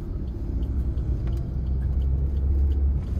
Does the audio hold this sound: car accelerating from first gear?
yes